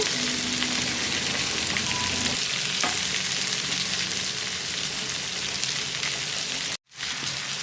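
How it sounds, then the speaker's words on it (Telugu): Fish fries in hot oil with a loud, close and constant sizzle and crackle that carries on without talk until a brief cutoff near the end. "మంచి గోల్డెన్ కలర్ వచ్చేదాకా ఫ్రై చేసుకోవాలండి ఫిష్ ఫ్రై అనేది బాగా ఫ్రై అయితే చాలా టేస్ట్గా ఉంటుంది"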